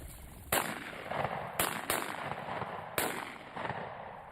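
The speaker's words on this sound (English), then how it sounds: "Nice shooting" Shotgun blasts on an Alabama quail hunt: four sharp reports, the first and third standing out loudest, spaced across a few seconds outdoors, each trailing off in a brief echo, no talking.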